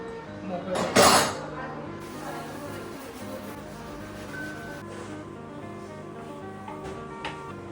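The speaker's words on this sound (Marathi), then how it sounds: "भांडी पण तेवढी करतो चला आपण थोडा हातभार करूया" Dishes and pots clink and clatter while being washed, with one sharp burst of clanking near the start, then softer scraping and knocking under running water.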